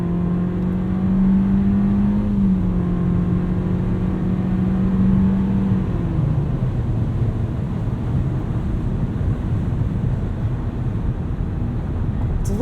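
A 2020 Nissan Versa SV accelerating, its CVT engine drone rising in pitch and stepping down through simulated shifts, heard from inside the cabin as a steady loud hum with road noise.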